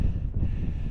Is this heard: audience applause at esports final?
no